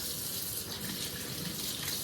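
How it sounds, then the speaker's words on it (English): Tap water pours steadily into a 2-cup measuring cup for doubled soft white bread dough, a close, loud, continuous rushing splash with no break and no voices. "we're going to add all of our water, which will be 2 cups"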